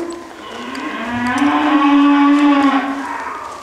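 A cow out in a cutting pen gives one long, loud, rising moo that swells and fades over a few seconds, with faint background noise and no talk.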